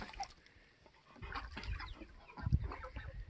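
Chickens cluck and fuss quietly inside a barn, a faint, scattered mix of soft calls with some low shuffling noise.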